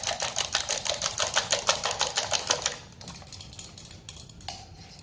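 A small hand whisk beats eggs in a bowl with a fast, steady run of light clicking strokes for about three seconds, then stops, leaving only faint kitchen noise and a few soft taps.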